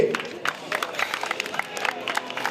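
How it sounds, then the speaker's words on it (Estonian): Scattered clapping and cheering from a crowd at an outdoor strongman competition, uneven bursts over a noisy background, with some voices mixed in. "teeme aplausi"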